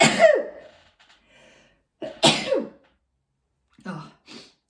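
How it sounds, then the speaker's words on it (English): A sharp, close sneeze from a woman with hay fever, then a second forceful sneeze a couple of seconds later and a softer sniffly exhale at the end, alone in a quiet indoor room. "Sorry, I'm going to sneeze."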